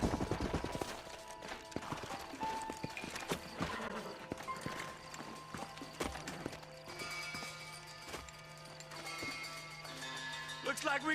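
Horse hooves clip-clop in a steady rhythmic gait, close and clear, with a whinny and mechanical rattles, as from a game soundtrack.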